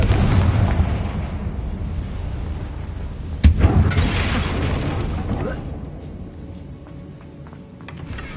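Bombarda and Confringo spell blasts in the game Hogwarts Legacy: a sharp booming explosion erupts over a rumbling ambient background, followed by a rolling, fading roar and faint debris.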